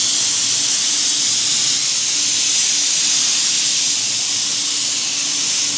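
Spray glue hissing from a can onto foam for custom VW seats, a loud continuous close hiss with no break.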